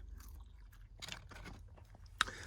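Small crunchy bites and wet chewing as a cat eats treats close up in a car, a few quick crunches in a row, quiet overall with one sharp click near the end.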